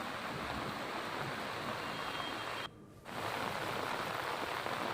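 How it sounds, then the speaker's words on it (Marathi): Dense, steady rain pours hard in Karad, flooding the Pune–Bangalore highway, a loud broadband hiss that drops briefly for a moment before resuming just as heavily. "कराडला पावसानं चांगलंच झोडपलेलं आहे"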